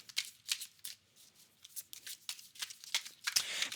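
Tarot cards are shuffled and drawn by hand in a rapid series of crisp riffling bursts and soft slides, close and quiet, with no talking.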